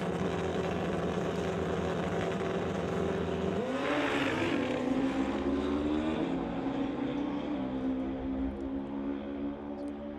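A Pro Mod drag racing motorcycle makes its run, a loud continuous engine roar that surges in pitch as it shifts and accelerates, then trails off slightly toward the end.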